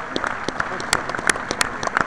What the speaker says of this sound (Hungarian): Na az őrülteknek egy tapsot küldjünk szépen